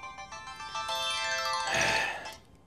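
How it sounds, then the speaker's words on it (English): A phone ringtone plays alone, a bright electronic melody of rising repeated tones that swells to a louder burst before fading, heard in a bookshop under renovation. "then my phone's going to ring"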